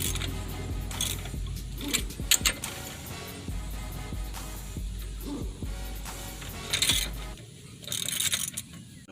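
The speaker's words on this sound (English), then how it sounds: "Then I'll do it with the breaker bar." Breaker bar working the lug nuts on a Lexus LS 460 during a brake job, giving repeated metallic ratcheting clicks and clanks in bursts with short pauses, close up, with no talking.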